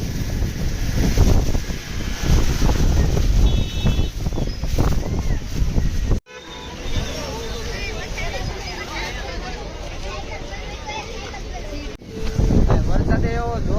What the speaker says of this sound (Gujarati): બહુ પવન છે જોરદાર